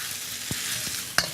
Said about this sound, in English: press this rice into the side of your wok with the back of the spatula